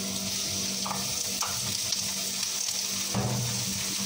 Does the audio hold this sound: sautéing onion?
yes